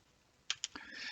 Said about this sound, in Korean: 이렇게 컨트롤 C 복사하고